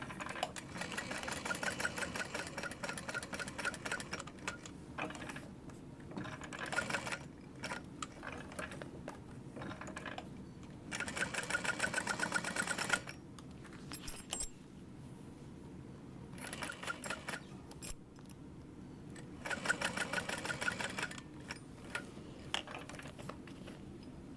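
A sewing machine stitches a convertible bag, a Scottie bag pattern by Kaur Threads, in repeated bursts of rapid mechanical whirring with short pauses between runs, close and steady throughout.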